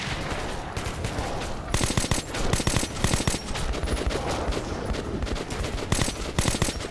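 Shotgun fire in the video game Metro 2033, a dense rapid barrage of loud blasts and impacts layered over constant combat noise, continuing throughout with no talk.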